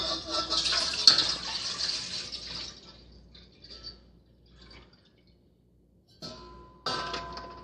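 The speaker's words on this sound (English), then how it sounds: "So pour the water in the bowl." Water poured into a bowl runs and splashes steadily for a few seconds, then trails off into near silence before brief splashes return at the end.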